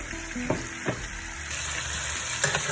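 Chopped onion tipped into a hot pan for Italian chicken with vegetables, breaking into a bright hissing sizzle with a few clunks of the spatula, close by and without speech.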